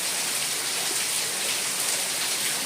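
Torrential rain pouring down in Mithapur, a constant broad wash of falling water, near and steady without pauses or speech.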